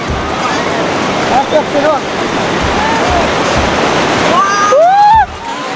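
Strong sea waves crash at Digha beach in a steady, loud roar of surf and churning water, with shouting voices briefly audible above it near the end.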